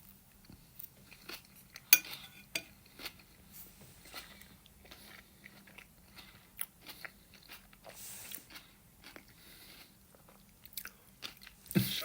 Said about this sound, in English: First taste of the first ever hamburger sandwich cake.